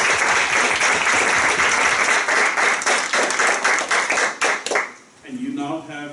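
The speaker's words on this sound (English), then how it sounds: "let's put together a round of applause for Charles" An audience applauds a speaker named Charles, dense loud clapping filling about five seconds before fading as a voice begins speaking.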